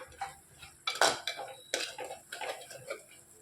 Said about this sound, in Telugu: ఒక టేబుల్ స్పూను ధనియాల పౌడర్ వేసుకోవాలి. మొత్తం కలిపేసుకోవాలి.